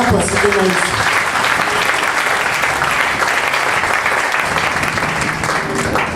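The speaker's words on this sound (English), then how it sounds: "Let's clap for Jesus." A church congregation at a Sunday service at Dominion Cathedral in Lomé, Togo, breaks into loud, sustained applause that fills the room and runs dense and unbroken throughout.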